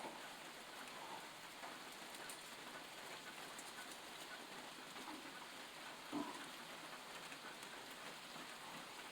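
Steady rain pattering down, a constant soft hiss with one brief louder knock partway through, no voices.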